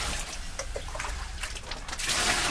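Water from a koi pond being drained is poured back in, making a continuous splashing trickle with small irregular drips that swells louder toward the end, with no talking.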